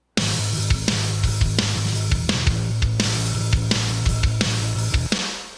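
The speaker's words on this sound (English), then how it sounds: "So let's solo up some drums and some bass." Soloed drums and bass from a mix: punchy kick and snare hits in a steady groove over a sustained, pulsing bass line. Loud and close, with no other instruments, ending with a short decay.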